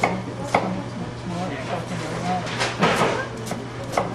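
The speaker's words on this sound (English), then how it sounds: "this is not how I would have taught you to chop an onion in the knife skills class" A knife chops an onion on a cutting board in a series of quick, fairly close taps and thuds over a steady background hum, with a voice talking faintly.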